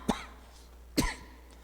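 Two sharp coughs, close by, spaced about a second apart, with quiet between them.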